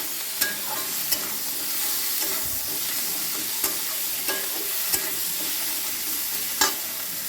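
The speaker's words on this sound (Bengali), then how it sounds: "তারপর এই টমেটোগুলো দিয়ে দিলাম। এই টমেটো এটা একটু ভাজা হবে।" Tomatoes frying in a pan with dried and green chillies, a steady close hiss of sizzling oil broken by a few sharp stirring clicks.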